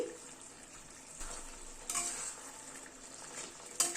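Chicken stirred in a pan while simmering in its released juices for a fenugreek-leaf curry, a soft steady sizzle broken by a few scraping stirs and a light clink near the end, close and fairly quiet with no talk.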